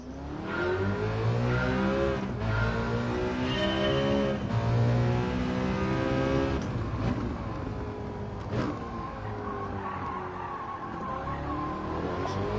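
A GT by Citroen race car in the video game Gran Turismo 7, on the Lago Maggiore circuit, revs and roars steadily, its engine pitch climbing and dropping through gear changes across a continuous loud run with no talk.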